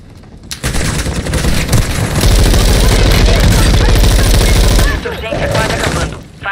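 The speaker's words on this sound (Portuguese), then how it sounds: "Usando bomba anti-bunker." Bunker buster airstrike explosions in Call of Duty Resurgence on Al Mazrah pound loudly and continuously for several seconds, a dense rumbling barrage mixed with gunfire that eases near the end.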